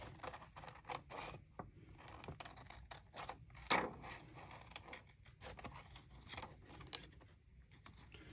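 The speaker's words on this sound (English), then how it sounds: "I'm just going to fussy cut this out" Scissors snipping around a printed paper shape in small, uneven bursts of close crisp cuts, with one sharper snip midway, and no talking.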